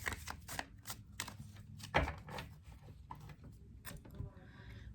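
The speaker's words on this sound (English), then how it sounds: "I'll give it one more shuffle" Soft, rapid papery riffling of tarot cards being shuffled, several quick bursts close by, with a sharper snap near the middle.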